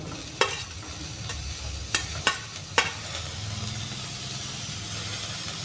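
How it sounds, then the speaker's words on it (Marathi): Shredded cabbage and carrot sauté in a pan with a continuous soft sizzle, broken by a few sharp scrapes and taps of the stirring spoon, close and fairly quiet. "आणि पीस घालूयात भाज्या एखादा मिनिट परतून घेऊयात"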